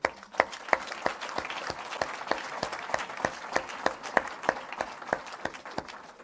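A church congregation at a revival meeting claps together in a steady, brisk rhythm, a dense run of sharp, fairly close claps carrying on without pause.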